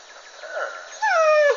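A dog in a video game whimpers softly, then lets out a louder, drawn-out whining yelp, close and clear with no talk over it.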